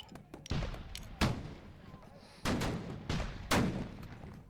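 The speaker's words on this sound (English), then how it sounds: "This cannon here firing at the 9-3. And it'll be 3 quick shots here" Cannon fire in a tabletop-style computer war game of the Thirty Years War battle of Breitenfeld: sharp gunshot-like blasts, several spaced over a few seconds, with two or three quick reports near the end, loud and close.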